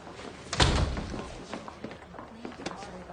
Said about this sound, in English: And don't slam my door.